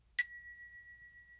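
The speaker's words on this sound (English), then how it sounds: "Slight bell, slight bell." A single strike on a small meditation bell gives a bright, clear ding that rings on as a thin, steady tone, fading slowly over quiet silence.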